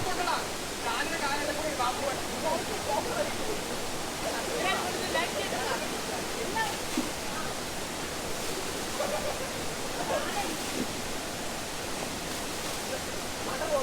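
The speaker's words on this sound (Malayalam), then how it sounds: "ചെറിയൊരു വെള്ളച്ചാട്ടം തന്നെയാണ് എങ്കിലും വളരെ വ്യത്യസ്തമായിട്ടുള്ള ഒരു വെള്ളച്ചാട്ടം" Steady rushing water from the small Kadapuzha waterfall fills the scene with constant broadband hiss, with faint voices now and then beneath it.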